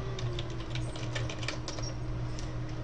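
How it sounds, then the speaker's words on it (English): Rapid, steady typing on a computer keyboard goes on throughout as a dense patter of light key clicks, fairly quiet and close, with a low hum underneath and no talking. "And then when you're done typing it in,"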